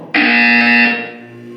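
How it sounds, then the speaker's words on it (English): A loud, steady electronic buzzer from the video game Portal 2 sounds once, holding for about a second before fading into a lower hum, with no talking. "When you hear the buzzer, look down at the floor."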